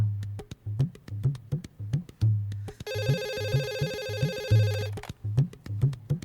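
A hotel room telephone rings with a bright electronic warble for about two seconds over a steady, rhythmic thumping beat that continues before and after the ring.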